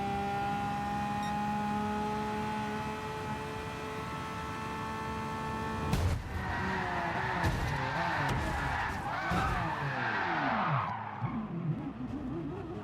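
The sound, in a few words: Bugatti Veyron race car in Gran Turismo Sport video game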